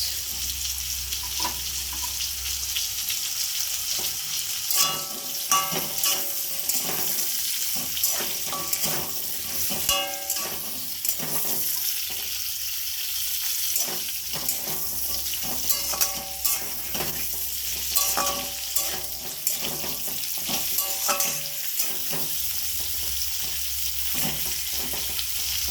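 Drumsticks, potato and pointed gourd fry in a pan with a loud, continuous sizzle and spatter, with frequent light clicks and scrapes from stirring over the top.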